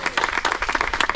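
Audience applause for Mathilde, founder of France's only all-women rally club, bursting out as a brisk patter of many hands, near and fairly loud, lasting only a moment.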